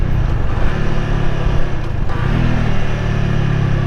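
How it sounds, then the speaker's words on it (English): A Honda Rebel 300 motorcycle engine brakes after a downshift, its steady loud drone shifting to a deeper, rumbling note partway through, heard close up during a ride with no talking. "when you engine brake like I'm about to do here"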